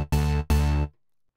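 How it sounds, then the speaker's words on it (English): Two sustained electro bass notes from a typical preset on the Nexus synthesizer, each held for a moment with a rich buzzy harmonic body, then silence. "just get a typical electro bass preset, which sounds a bit like this"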